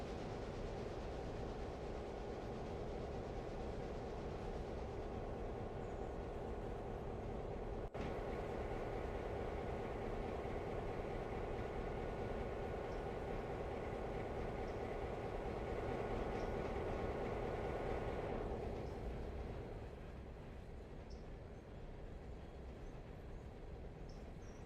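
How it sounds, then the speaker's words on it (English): A diesel locomotive grinding along in the Railroader game, a continuous heavy rumble with metallic clatter and a droning engine tone that holds steady before easing slightly near the end. "Hear that diesel locomotive just like grinding."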